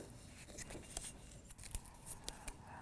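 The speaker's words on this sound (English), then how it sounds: "So I'm going to cut this off here, about there." Scissors cutting paper for a handmade lantern, a quiet series of crisp, close snips spaced irregularly over a few seconds.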